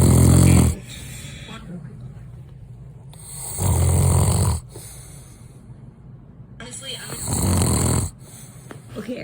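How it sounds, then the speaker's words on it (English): A sleeping man snores loudly in three long, heavy rasping breaths spaced a few seconds apart, with quieter breathing between them and no talk. "Look at him snore."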